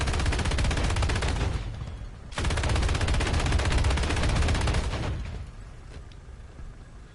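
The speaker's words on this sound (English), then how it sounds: "someone was firing down the road there" Gunfire rattles in War Thunder, loud and sustained in two long bursts separated by a brief gap, then fades into distant echoing shots.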